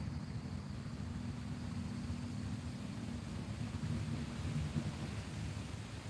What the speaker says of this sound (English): Oh, I hear a little bit of thunder.